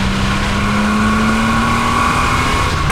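A Porsche 911 993 engine at about 6,000 RPM, a loud steady high-revving drone heard from inside the car while driving.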